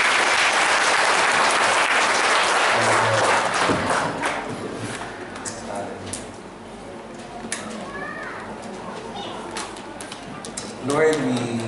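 Congregation applause at a Friday worship service, loud clapping at the start that fades within a few seconds, followed by quieter room sounds and a voice speaking near the end.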